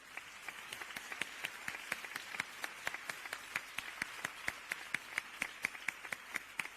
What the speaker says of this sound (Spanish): os pido un fuerte aplauso para ella